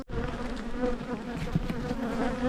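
Bees buzzing steadily from an opened beehive during an inspection, a dense continuous hum close by with no voices.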